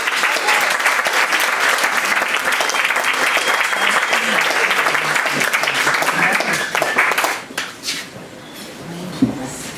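An audience applauding at a talk, dense sustained clapping from a crowd for about seven seconds, close and loud, then thinning out into scattered claps and fading.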